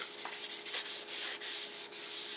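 A cloth dampened with solvent rubs across the surface of a front brake rotor on a 2004 Mazda 6, a steady close scratchy wiping in repeated strokes with brief pauses between passes, no talking.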